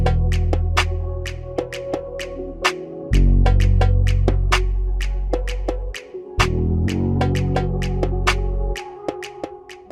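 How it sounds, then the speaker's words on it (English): A sewing machine runs in bursts, stitching dress pieces, its motor humming loudly up close with sharp rapid needle clicks ticking over the drone and brief pauses between runs. "I'm going ahead to sew it down with my sewing machine."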